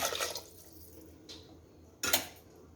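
Water is poured into a pot of kodo millet vegetable biryani, about three cups, in short splashing pours: one at the start, a brief one midway and a louder one near the end, with quiet between and no voices.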